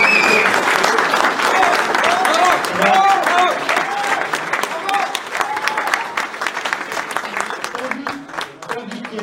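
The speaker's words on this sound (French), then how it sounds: "On applaudit Geoffrey pour..." Crowd applause at the podium ceremony of the French pike and predator fishing championship (Mercury Fishing Cup), outdoors, with steady clapping that fades slightly while voices talk over it.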